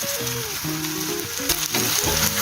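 Pear pieces frying in a pan with two spoonfuls of sugar added to caramelize, giving a steady close sizzle with crackling bursts, joined by a musical tone in the background.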